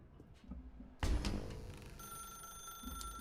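Telephone ringing in The Stanley Parable, a sudden electronic ring cutting in after a quiet stretch, then a sustained bright tone holding steady, fairly close with faint room ambience underneath.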